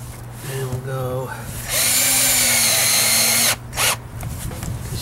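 A power drill drives screws into a plastic portlight being resealed, giving a close, loud whir of about two seconds and then a brief second burst, with a low hum and someone talking in the background.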